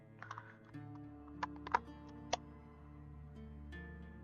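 Quiet clicking on a computer keyboard, a few scattered keystrokes with brief gaps, close by and soft over a low steady background hum.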